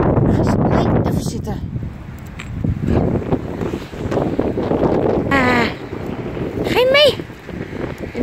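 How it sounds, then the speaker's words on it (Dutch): Strong gusting wind buffets the microphone outdoors with a loud, rumbling roar that rises and falls, while a person speaks over it and a dog whines briefly. "het waait nogal hard"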